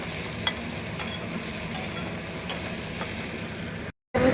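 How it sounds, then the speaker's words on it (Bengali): Sago pearls frying over a low flame in a kadai while being stirred, a steady close sizzle with soft periodic scrapes of the spoon, cutting out briefly near the end. "লো ফ্লেমে রেখে ভালোভাবে ভাজা হয়ে গেছে"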